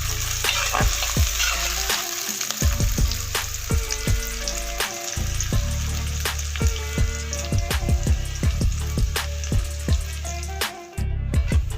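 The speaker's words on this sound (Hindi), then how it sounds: "अब इसमें ये प्याज फ्राई कर लूँगी" Two large sliced onions fry in oil for a masala fish curry, a loud continuous sizzle with repeated sharp clicks and scrapes of stirring close by.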